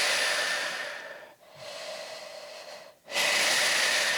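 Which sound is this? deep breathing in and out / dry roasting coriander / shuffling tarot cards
deep breathing in and out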